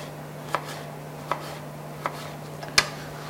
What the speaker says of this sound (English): We'll cut them into nice strips.